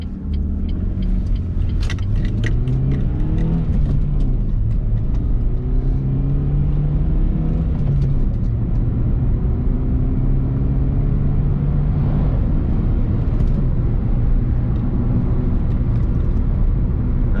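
A 2011 Renault Clio with a 1.2 litre, roughly 75 horsepower engine accelerates on the road, its engine note climbing through the gears with rising and resetting pitch over steady tyre and road rumble, heard from inside the car.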